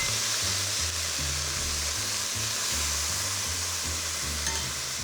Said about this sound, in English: So I'll add a couple of ladles of that beautiful Amarone.